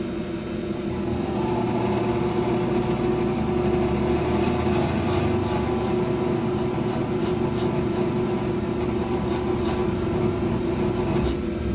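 A shop buffer fitted with a 3-inch fiber wheel spins up and runs at about half power, a steady close whining hum with a faint rising tone that holds evenly for several seconds.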